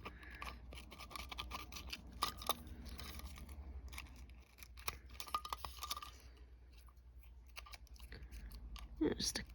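Scissors snip paper close by in short bursts, trimming a junk journal, several quick cuts separated by pauses, with faint rustling between them.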